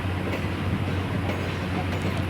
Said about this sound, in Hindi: अब देखते हैं कितने देर में वाराणसी में इंटर करती है हमारी ट्रेन।